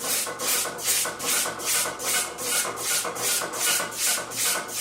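A file or sharpening stone rasps back and forth across the bevel of an axe head with hardened steel, about ten steady strokes in an even rhythm, close and clear with no talking.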